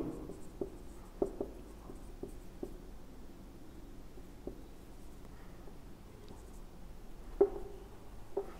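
Marker or chalk strokes on a board during a chemistry lecture, a series of faint scratchy taps and short scrapes spaced irregularly over quiet room tone, with no talking.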